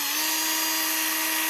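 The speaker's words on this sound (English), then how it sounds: "going to use my teeny weeny angle drill" A small angle drill fitted with a 4-40 bit bores into a tubular lock, producing a steady, loud, high-pitched whine that holds at one pitch throughout with no talking.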